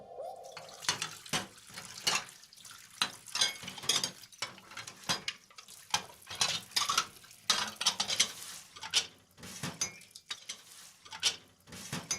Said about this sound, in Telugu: ఏం లేదు, గిన్నెలు కడుగుతున్నాను